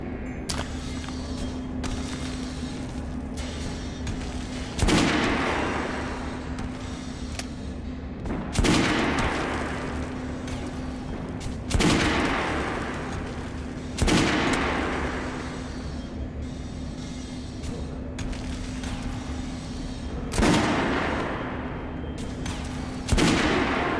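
Repeated volleys of rifle fire in the Metro Last Light Redux game, roughly one every three to four seconds over a steady low hum, each crack followed by a rolling tail.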